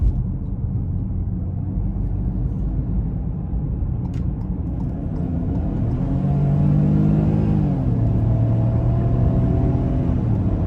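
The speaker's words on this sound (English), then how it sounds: "as we get on the interstate, we're gonna give it some throttle" A 2021 Ford Bronco Sport Big Bend accelerates onto the interstate. Steady road rumble gives way to a rising engine note around the midpoint, heard from inside the cabin with no talk.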